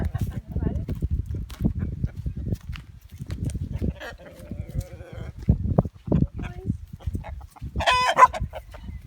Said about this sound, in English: We're gonna go check on the ground for the roosters.